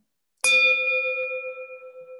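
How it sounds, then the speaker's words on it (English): A single bell struck once to open a Rotary Club meeting, ringing out loud and clear with a sharp strike and a long, steady sustaining tone that slowly fades, no voices over it. "there's the bell for the official start of our meeting"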